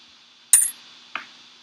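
A bright metallic coin chime from a computer learning task, one sharp ring followed half a second later by a softer second ping over a faint electronic hum.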